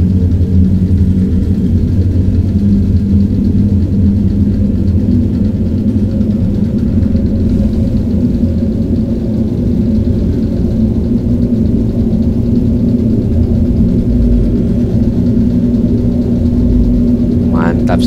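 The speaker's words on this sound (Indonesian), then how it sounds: "Sekali kita menggunakan bus Keramat Jati AC Milan" A Kramat Djati "AC Milan" intercity bus running from Jakarta to Pekalongan drones with a steady low engine rumble throughout while riding, loud and continuous, with voices talking over it.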